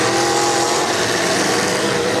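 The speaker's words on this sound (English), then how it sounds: "Listen to that. I believe that's Juice Power in Schmidt's car. That thing sounds nasty" A demolition derby car engine roars loud and close at a county derby, a steady unbroken growl with no pauses.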